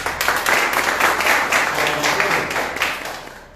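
Audience clapping at the opening of a capoeira group's library, a loud close burst of applause that holds steady and then tapers off near the end.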